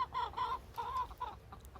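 Several close, nasal clucks from a small backyard flock of hens with a rooster and bantams, in short bursts, with a faint rumble of background noise.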